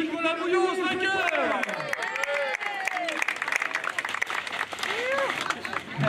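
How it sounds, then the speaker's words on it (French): A crowd at an outdoor race podium ceremony for the Auron electric bike event applauds winner Nicolas Bouillon, with steady clapping running under someone speaking over it. "On applaudit Nicolas Bouillon, s'il vous plaît."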